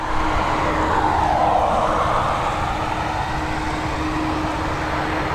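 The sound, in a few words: Airbus A330 aircraft engines at Dublin Airport runway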